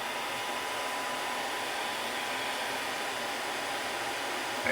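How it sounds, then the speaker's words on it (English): A hair dryer blowing on a painted miniature, a constant loud whooshing hum that stays steady from start to end, close and alone. "I'm going to hit this with a hair dryer a little bit"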